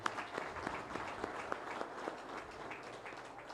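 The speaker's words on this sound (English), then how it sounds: "mighty hand clap" An audience at a health programme learning event gives a steady round of applause for a panel, heard from a distance, with many hands clapping together.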